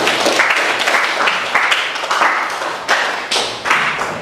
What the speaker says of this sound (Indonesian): Mari kita beri aplaus buat kelompok.